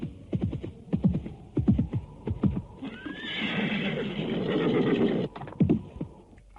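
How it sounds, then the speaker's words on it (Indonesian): A horse whinnies loudly and drawn-out amid a galloping clip-clop of hooves that drums nearer through a radio drama scene on a grassland, the hoofbeats returning after the neigh. "dari arah Bukit Kurawan muncul kuda yang lain. Kuda itu terus dipacu makin dekat."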